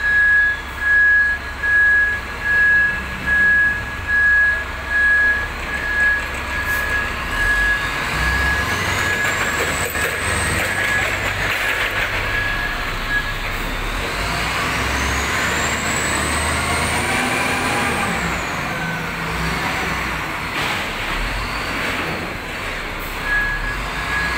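A Komatsu wheel loader loads soil onto a truck, with pulsing rhythmic engine surges at first, then a loud sustained heavy diesel roar rising and falling as the machine works.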